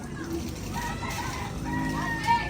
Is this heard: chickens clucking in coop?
yes